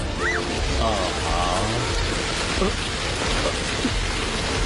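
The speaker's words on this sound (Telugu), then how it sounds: "వర్షం పడుతుంది." Heavy rain pours in a dubbed film scene that turns into hail, a dense, steady hiss filling the whole clip, with voices speaking briefly over it near the start.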